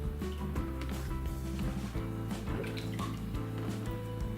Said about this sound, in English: Then we rinse the cell 3 times.